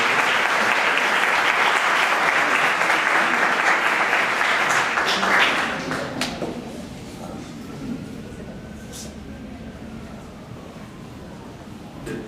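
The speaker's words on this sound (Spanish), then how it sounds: "Por favor, un aplauso para ellos." Audience applause at an organ donation panel event, a dense, loud wash of clapping that holds steady for several seconds, then thins and fades to a lower, scattered patter that lingers to the end.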